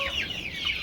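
Chickens cluck briefly and faintly, a short burst of farmyard fowl calls.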